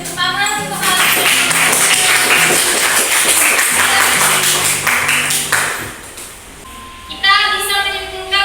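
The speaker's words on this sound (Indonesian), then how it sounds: "beri tepuk tangan untuk hal ini" A seventh-grade algebra class in Indonesia claps together. The applause is loud, crackling and sustained for several seconds, then fades as a few brief tones and a voice return.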